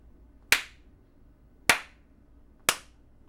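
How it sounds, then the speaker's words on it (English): Three single hand claps, close and crisp, evenly spaced about a second apart in a quiet room, made as a sync test for a Tascam DR-680 eight-track audio recorder. "Let's do a little clap here."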